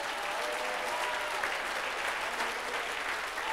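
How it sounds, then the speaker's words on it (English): A church congregation applauds after prayer, a steady wash of many hands clapping at moderate volume, sustained and even throughout with no voices rising above it. "Let's clap for Jesus."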